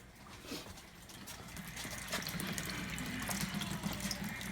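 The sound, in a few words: water draining from a home water heater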